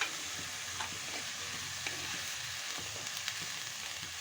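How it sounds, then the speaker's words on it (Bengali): Chopped carrot and cabbage frying in a pan for pulao: a soft, steady sizzle with light stirring clicks, quiet and close, with no talking. "আর দিচ্ছি কুচানো গাজর আর বাঁধাকপি, এগুলি এখন ভেজে নেব"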